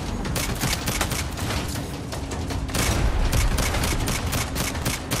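Dense, rapid gunfire from the video game Saints Row, a continuous loud burst of overlapping shots and booms running through the whole stretch.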